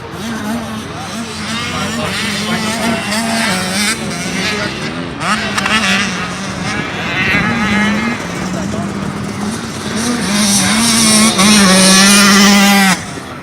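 A motocross dirt bike engine revs hard at practice, a loud buzzing two-stroke whine rising and falling through repeated throttle blips and held pulls, fairly close, with people talking over it.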